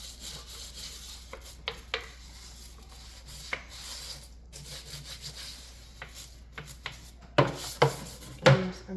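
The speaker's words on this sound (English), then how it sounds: "Give it a scrub there." A kitchen sink being scrubbed with soapy water, steady rubbing and swishing strokes with occasional taps and knocks against the basin, growing louder and choppier toward the end.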